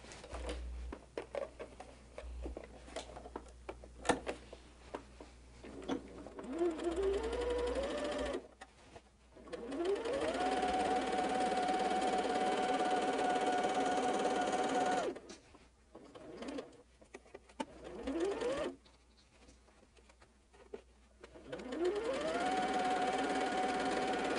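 A sewing machine stitches quilt seams for a holiday quilt in several runs, each starting with a rising whir that settles into a steady hum, separated by short quiet breaks and handling clicks.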